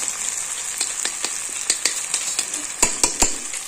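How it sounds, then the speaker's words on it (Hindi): Desi ghee sizzles and crackles in a hot pan with chopped tomatoes for Punjabi sarson ka saag, a steady close hiss broken by sharper pops and spoon scrapes, with no talk. "तो अब इसमें डालेंगे ये घी,"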